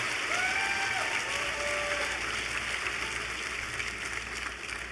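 Steady applause from a large audience at a Bill Clinton political rally in Orlando, Florida, a dense wash of clapping that carries on for several seconds and slowly thins, with faint whistles and cheers above it.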